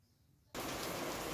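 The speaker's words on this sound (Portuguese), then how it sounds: "Olha a chuva." Light drizzle falls outside on a cleaning day, a steady, even broadband hiss of rain that swells in suddenly and then holds, with no talking.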